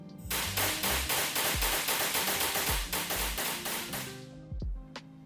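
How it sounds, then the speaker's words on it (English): Propane and oxygen pyrotechnic fireballs shoot from a modified 1965 Aston Martin DB5 in a rapid, loud, evenly spaced string of whooshing bursts that stop abruptly, followed by two last pops. "using some pretty trick pyrotechnic technique that uses a precise metering of oxygen and propane to shoot fireballs oscillating from side to side"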